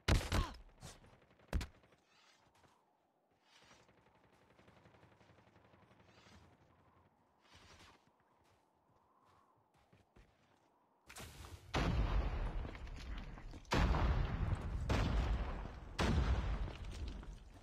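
An RPG blast and gunfire in a mobile shooter: sharp explosive bangs open the scene, quieter combat rumbles beneath, then heavy bursts of loud, close gunfire and booms follow.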